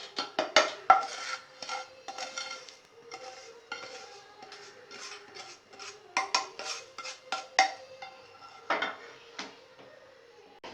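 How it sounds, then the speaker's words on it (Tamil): Roasted semolina tipped from a pan into a vessel for rava kesari, giving a run of close clinks, scrapes and soft rattles of metal cookware with a grainy pour, moderately loud with irregular bursts and no talk. "இப்போ நம்ம இதை வந்து பாத்திரத்தில் கொட்டிடுவோம்."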